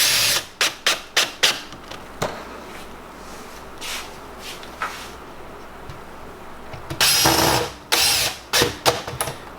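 Power drill driving self-tapping screws back into an egg-cutting clutch setup, short whirring bursts in quick succession close by, with a longer run of drilling followed by more rapid bursts.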